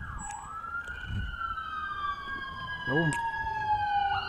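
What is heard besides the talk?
ambulance siren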